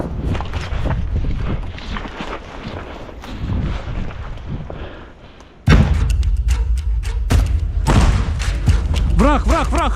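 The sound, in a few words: grenade explosion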